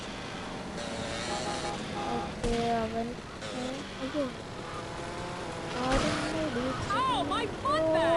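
Engine drone of a motorbike ridden through a rainy scene in the video game GTA, revving and shifting under someone talking over it.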